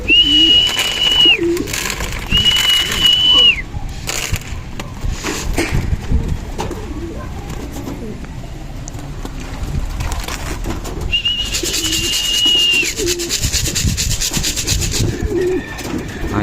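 Pigeons in a loft, with a reunited mated pair, cooing and shuffling against wooden surfaces, mixed with a repeated high whistle-like tone and steady close rustling.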